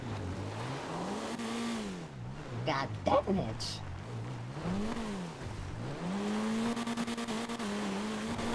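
A big car in a video game revs and accelerates, its engine pitch rising and falling through repeated gear sweeps, with a brief burst of tire noise midway and someone talking over it.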